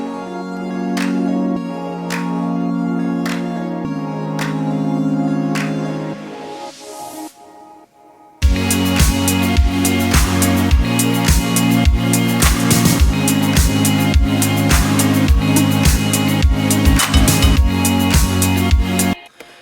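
A pop song chorus opens with a plucky guitar loop over big synth chords. After a short break, punchy drums and full instrumentation come in, loud and dense with steady beats, and there is no talking.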